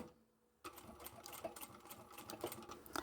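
A sewing machine back-stitching a fabric pot lid cover runs steadily and close after a brief quiet start, a rapid mechanical whirring with regular needle clatter.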